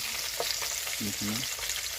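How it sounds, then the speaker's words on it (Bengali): Mrigel fish pieces fry in hot oil in a pan, giving a continuous close sizzling hiss, with a brief low murmur of a voice partway through. "মাছটা ভাজা হচ্ছে"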